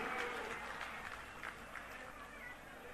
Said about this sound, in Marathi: एकदा जोरात टाळ्या वाजवून देवेंद्रजींचं आपण स्वागत करू